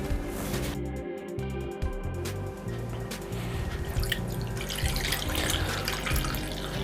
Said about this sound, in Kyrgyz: өлчөмдө сууну куюп алабыз.